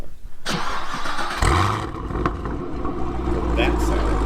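Deep, steady engine rumble from a yellow Camaro SS 1LE fitted with a Corsa exhaust, a loud low drone that holds throughout, with a brief rise in revs near the start and voices talking over it.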